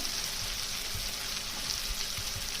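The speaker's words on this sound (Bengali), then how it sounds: "এবারে মশলাটাকে একটু কষিয়ে নেব।" Ground cumin, coriander and chili powder sizzle steadily in hot oil in a pan for pomfret fish jhal, a close, continuous frying hiss with faint stirring scrapes and no talk.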